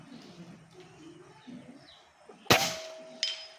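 A single sharp crack from an upgraded Mini Predator airgun going off at an outdoor range, followed a moment later by a fainter metallic clang of the pellet striking, after quiet ambient birdsong.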